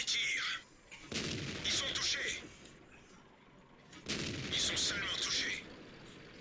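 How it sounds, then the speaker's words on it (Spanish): Two bursts of heavy gunfire from a Bat-Chatillon 25t tank cannon in a video game, each lasting over a second, with a quieter rumbling gap between them. "Empiezo a descargar mi cargador."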